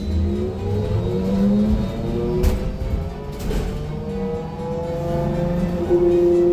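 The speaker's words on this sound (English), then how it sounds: "And listen to this engine note." A Transjakarta high-deck electric bus gives off a whining motor note with tones gliding upward and downward as it speeds up and slows, steady and close, with a couple of brief knocks.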